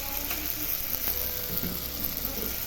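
Ginger paste sizzles with browned onions and chopped tomatoes in a pan, giving a steady close frying hiss with a few light scraping, stirring clicks and no talking.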